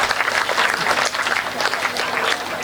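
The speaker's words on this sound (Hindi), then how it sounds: "ताली जोरदार हो जाओ" Loud, continuous clapping from a comedy show audience, dense and even for under three seconds, with no talk over it.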